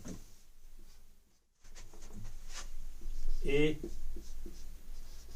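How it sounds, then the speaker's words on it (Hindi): Marker or chalk scratching across a board while a name is written, a short squeaky stroke burst amid faint room noise and a brief silent gap, during a classroom-style lecture. "यहां पे मैं इसका नाम लिख देता हूं"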